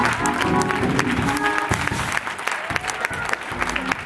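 A church congregation claps their hands in a dense, continuous burst of applause, loud and close, with scattered voices and shouts mixed in.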